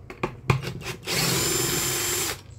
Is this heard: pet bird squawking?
no